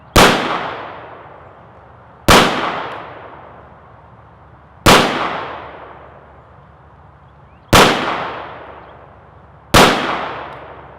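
Five AK rifle shots fired standing with iron sights at a 25-yard target outdoors on a cold day, each a loud sharp crack with a ringing decay, spaced about two seconds apart.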